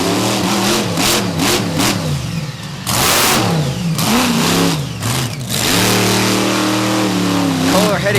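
A monster truck engine revs hard during a freestyle run on a dirt track, roaring loud and close as it rises and falls in pitch through several throttle surges, with an announcer talking over it.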